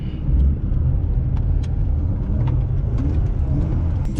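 A car rolls along a snowy road on freshly changed tyres, a loud low rumbling drone of engine and road noise heard from inside, with scattered faint clicks and crunches.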